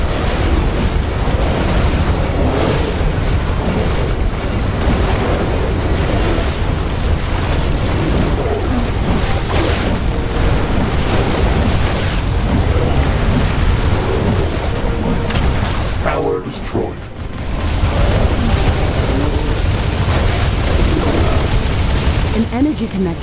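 Constant dense roar of explosions and heavy weapon fire as base buildings, walls and towers are blown apart under attack in The Riftbreaker, loud and sustained throughout, with a synthetic announcer voice reporting losses over the din.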